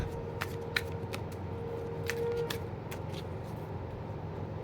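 Playing cards are shuffled close up, with repeated crisp riffling bursts and snaps over a steady low background hum.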